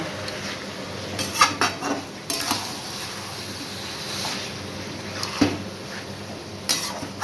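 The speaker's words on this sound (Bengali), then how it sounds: "মাংসটাকে ভালো করে কষিয়ে নেব।" Mutton is stirred and fried in a pot, with a spoon scraping and clanking against the metal in irregular bursts over a low background sizzle. No one speaks.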